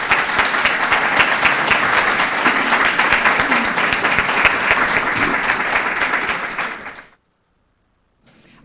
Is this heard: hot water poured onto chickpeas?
no